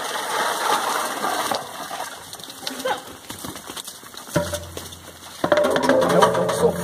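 A hand-operated well pump drawing water on a rural smallholding, with repeated ratcheting mechanical clanks and creaks in an irregular rhythm, close and fairly loud, with faint birds in the background.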